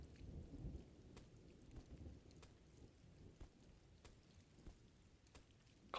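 Soft, steady video game rainfall with faint rumbling underneath and scattered drips, quiet and continuous throughout.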